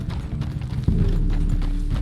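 Horse hooves clopping steadily while riding in the video game Red Dead Redemption 2, a dense rhythmic patter over a low rumble that grows louder and fuller partway through, with no talking.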